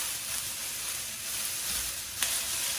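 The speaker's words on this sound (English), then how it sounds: "Now, when the veggies, get stir-fried," Vegetables stir-fry in a hot wok with a steady, close hiss of sizzling oil, joined by a brief sharper crackle near the end.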